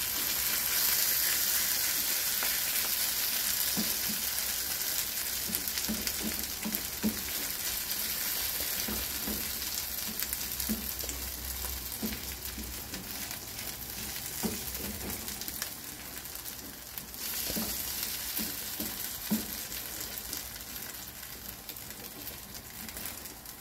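Steady, soft sizzling of a chard and mackerel tortilla frying in a pan over minimum heat, with occasional faint clicks and scraping, continuing evenly throughout.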